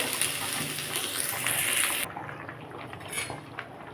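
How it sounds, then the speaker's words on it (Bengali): Fried potato, cauliflower, carrot and egg go into a pot of vegetarian khichuri with clattering metal and a wet slosh, the bright scraping stopping abruptly partway through and giving way to quieter stirring. "আমি এবার এগুলো খিচুড়ির মধ্যে দিয়ে দেবো"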